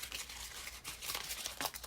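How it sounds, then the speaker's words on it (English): Sheet of crumpled craft paper being gently pulled open by hand for a paper texture, giving a steady run of soft crinkling and crackling close up, with no talk. "Then gently open the paper."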